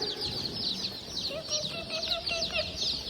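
Baby chicks fresh from the post office peep continuously in a box, a dense, busy chorus of high chirps with occasional lower clucking underneath.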